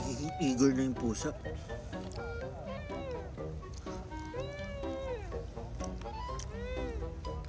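A cat meows repeatedly at an outdoor dinner picnic, giving several drawn-out, close meows, partly under someone talking, with steady background noise throughout.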